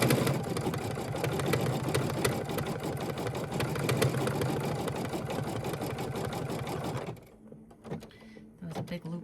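An embroidery sewing machine stitches a doorknob design for a Kimberbell tiling scene, whirring in a rapid, steady buzz for about seven seconds before stopping and leaving a quieter tail.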